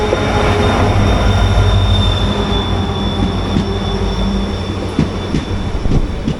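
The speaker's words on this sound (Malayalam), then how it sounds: "നമ്മുടെ ഓപ്പോസിറ്റ് വണ്ടിയാണ് ഷൊർണൂരിൽ നിന്നുള്ള പാസഞ്ചർ" Passenger train from Shoranur passes on the opposite track with a loud, continuous roar of wheels and a sustained high squeal, close by and steady throughout.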